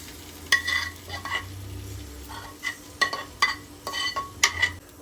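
An egg and onion mixture cooks on a non-stick tawa over low flame, a soft sizzle broken by repeated sharp scrapes and taps of a spatula spreading it evenly, no voices.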